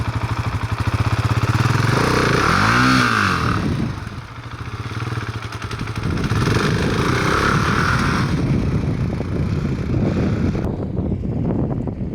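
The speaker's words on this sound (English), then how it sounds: "It was an ideal spot for dirt biking" Dirt bike motorcycle ridden near the fairy chimneys of Cappadocia, its engine droning loud and steady with a revving pitch sweep early on, continuous for about twelve seconds.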